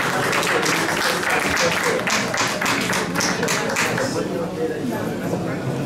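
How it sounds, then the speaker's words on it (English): Conference audience applauding together at a repatriation and investment gathering in Ghana, a dense steady patter of many hands lasting the whole stretch, with voices mixed in underneath. "Give yourself a round of applause"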